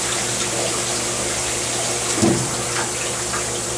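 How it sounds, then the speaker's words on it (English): Water draining and dumping from a JST 4 ft stainless steel wet bench, a steady loud rushing gush that holds throughout with a brief surge midway, close by and without talk. "And we can drain it. And it dumps."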